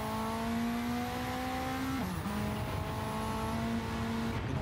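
A GTO race car engine in a racing game pulls hard out of turn one, a steady, close-up harmonic drone with a brief dip partway through before it picks back up.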